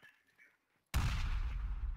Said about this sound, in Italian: Sento anche degli spari in direzione 150.